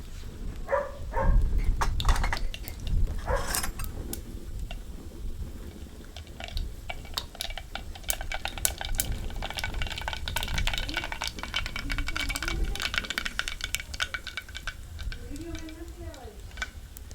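Mustard seeds and cumin crackle and pop in hot oil in a home kitchen, a steady sputtering sizzle with scattered sharp ticks, heard up close under a voice speaking throughout.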